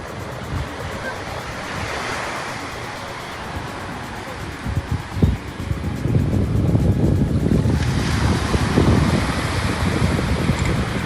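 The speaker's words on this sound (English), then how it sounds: "Here, the beach waves will come meet us." Ocean surf rolls onto a beach in Lagos, a continuous wash of breaking waves with wind buffeting the microphone, swelling louder in the second half as the waves come closer.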